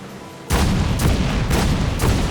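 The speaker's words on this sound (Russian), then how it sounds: "Так работают мортиры" Ship mortars firing in Assassin's Creed Black Flag, a sudden loud burst followed by a steady series of roughly four booming shots about half a second apart over heavy rumble.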